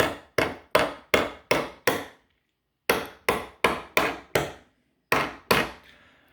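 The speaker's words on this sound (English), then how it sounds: "I'm just going to start lightly tapping this down in here." A hammer lightly taps a peg down into a door tool in two quick bursts of sharp, evenly spaced knocks, six then five, followed by two more, close and clear with nothing else around.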